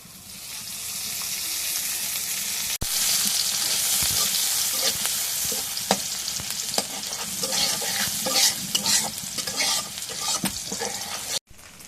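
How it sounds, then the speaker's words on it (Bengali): Oil sizzles and fries steadily in a wok on a home stove, a loud continuous hiss broken by a few stirring scrapes and clinks, with no voices. "এখন কড়াই পিস করে দিয়ে দিই এখন তেল দিয়ে দিই"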